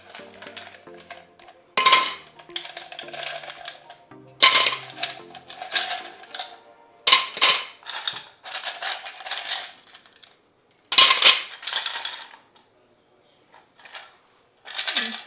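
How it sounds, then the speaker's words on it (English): Ice cubes clatter into a blender jar with a lemon for a citrus carrot juice, a series of loud, sharp bursts and rattles spaced out over the clip, with quieter clinking between them. "We're gonna add some ice cubes."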